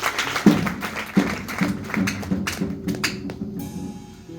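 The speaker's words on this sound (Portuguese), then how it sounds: "Uma salva de palmas para nossa irmã." Audience clapping for a participant during a Bible quiz, sustained group applause with a few sharper individual claps, tapering off toward the end.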